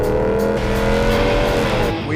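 A Dodge SRT Hemi V8 engine roars close by, a loud, sustained rev with its pitch rising and holding briefly.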